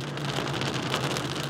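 Heavy rain pours steadily in a city during a downpour lasting more than ten hours, a loud, dense, continuous roar with a low constant hum underneath and no voices.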